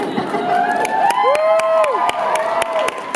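A convention panel audience at Nashcon 2017 bursts into loud cheering, whoops and applause, a dense crowd roar with sharp claps and a rising shouted whoop running through the whole stretch.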